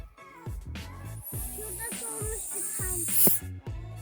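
A snake's steady high hiss rises and swells for a few seconds in a village, then cuts off, with children chattering and talking over it throughout.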